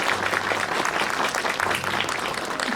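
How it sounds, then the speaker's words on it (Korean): An audience at a film talk event applauds, producing dense, steady clapping throughout with no break. "큰 박수 부탁드립니다"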